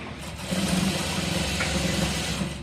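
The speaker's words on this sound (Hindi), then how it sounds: "तो पूरे राउंड पर हम एक पैर की सिलाई लगा देंगे।" A sewing machine runs steadily for under three seconds, stitching around a boat neck, with a dense, even motor hum and fast needle rattle close by.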